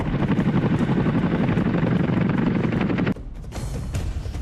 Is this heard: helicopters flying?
yes